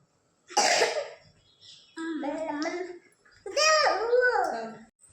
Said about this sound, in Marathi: खोकला आलेला आहे जोरात